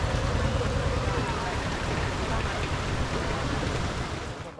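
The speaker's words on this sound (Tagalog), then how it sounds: "lalong lumakas ang ulan." Heavy rain pours down steadily during a boat journey in the Philippines, a dense, close hiss that stays loud and fades slightly at the end, with no talk over it.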